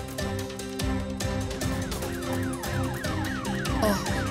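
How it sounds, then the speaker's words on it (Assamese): An ambulance siren wails in a steady, repeating up-and-down pattern, loud and close, as the vehicle arrives at a home, with no voices over it. "অঁ, এম্বুলেঞ্চ আহি পালেহি।"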